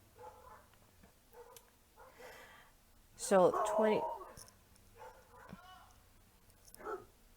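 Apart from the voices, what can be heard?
dogs barking in the background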